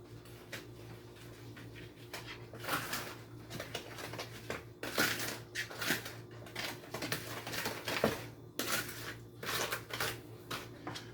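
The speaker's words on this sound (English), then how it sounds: "Mix that up." Batter made with melted butter for salted caramel brownies is mixed in a bowl, giving soft, rhythmic scraping and sloshing strokes that come in quick bursts, quiet and close.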